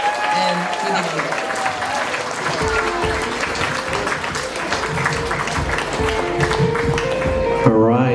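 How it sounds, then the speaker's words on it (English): Audience applause at an evening event for Mayor Belen Fernandez, a steady loud clapping wash that continues throughout, with musical tones and voices mixed in. "let's give another round of applause for Mayor Belen Fernandez."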